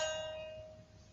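A single tense chord from the jazz melodic minor scale rings out once, sounding bright and bell-like with sustained tones that slowly decay over about a second.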